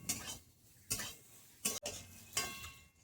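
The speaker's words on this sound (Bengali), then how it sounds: "পেঁয়াজ, আদা, রসুন সব কিছু একটু বাটারে একটু ভেজে নেবো আমি" Onion, ginger and garlic frying in butter in a pan, heard as four evenly spaced stirring scrapes over a faint, steady sizzle, close and quiet with no talking.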